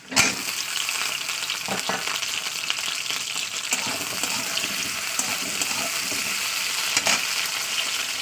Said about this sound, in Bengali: আলুটা দিয়ে তেলের উপরে আমি এক থেকে দু মিনিট এমনি এরপর ভেজে নেবো